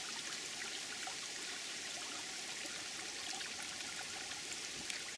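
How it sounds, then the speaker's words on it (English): Spring water welling up out of the ground at a nature preserve in Frankfort, Kentucky, making a steady, close trickling and bubbling with no talk. "The water's just coming up out of the ground here."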